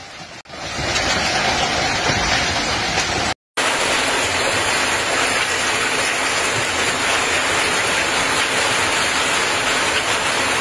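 Heavy storm rain pours down in the streets of Belgrade, a dense, steady hiss of water with a brief dropout near the start, loud and continuous without voices.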